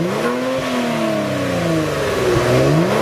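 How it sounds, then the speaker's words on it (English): A Kia Stinger GT engine revs up and down in smooth sweeps, a throaty rising and falling whine, loud and close with no talking. "how the Stinger GT sounds when it revs up"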